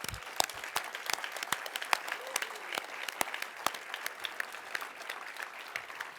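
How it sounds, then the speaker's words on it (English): An award ceremony audience claps for the laureates in steady applause, with sharp individual claps standing out, moderately loud and close, carrying on for several seconds. "can we just give another applause to our amazing laureates?"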